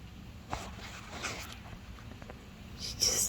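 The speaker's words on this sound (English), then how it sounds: "I guess I better find out what them dogs are doing." Dogs moving about outdoors in falling snow, with a few faint yelps and whimpers, scuffling and panting sounds over a steady windy background, and a brighter burst near the end.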